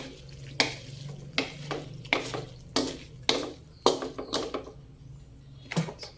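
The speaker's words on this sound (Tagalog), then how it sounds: "ato sa mix ang atong pasayan" Shrimp being stirred in a pan for mixed seafood, with about eight distinct scraping, clattering strokes at irregular intervals over a soft low sizzle, fairly close and moderately quiet.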